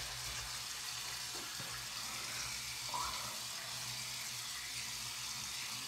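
Cold tap water runs steadily into a sink for rinsing a face, a soft, even stream that holds for several seconds with only slight changes in the splashing.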